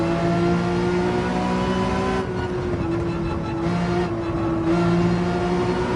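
A GT3 race car in Gran Turismo 7 on Trial Mountain, its engine holding a steady high whine with shifting pitch as the tires spin, loud and continuous without talk.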